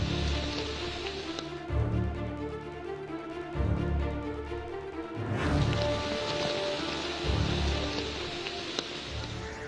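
Monsoon rain falling steadily, a soft continuous patter and hiss with faint rustling, heard alone without voices.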